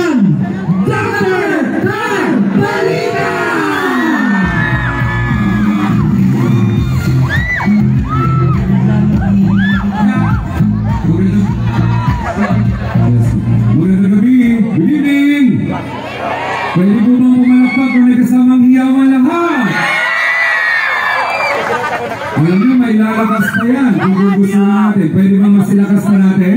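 A large crowd at a political rally in Tacloban cheers, whoops and shouts loudly and continuously, with a short dip midway before the roar surges back, an amplified voice running over it.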